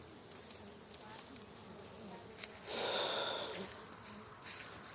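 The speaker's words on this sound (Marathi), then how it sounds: "मधमाशांचं मुक्काम आमच्या तुरीचंच होतं" Honeybees buzz around a wild hive set among pigeon pea plants on a natural farm, a soft steady insect drone that swells louder and closer for a second or two midway before easing back to a faint hum.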